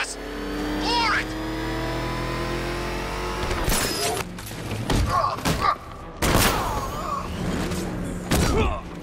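Car engine revving and accelerating during a chase in the Batman Arkham Knight video game, a steady loud roar with thuds and crashes, under excited talk.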